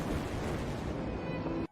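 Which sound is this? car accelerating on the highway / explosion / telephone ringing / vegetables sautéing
explosion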